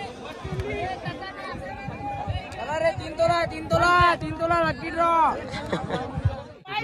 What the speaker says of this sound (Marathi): ही गर्दी बघा.